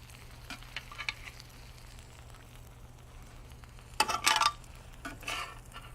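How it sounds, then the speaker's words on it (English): Philly cheesesteak meat, onions and bell peppers sizzling on a grill, a low steady sizzle with scattered clinks of a utensil and one louder scrape partway through, no talking. "Oh, listen to that. It's still grilling right there."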